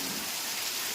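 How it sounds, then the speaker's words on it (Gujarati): A heavy evening downpour hisses in a dense, unbroken wash, loud and close. "જોરદાર વરસાદ ચાલુ થયો છે"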